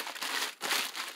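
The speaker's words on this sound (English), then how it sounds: "let's move the bubble wrap out of the way" Bubble wrap being pushed aside during an unboxing of craft supplies, soft crinkling in two quiet bursts with a short pause between, close and alone.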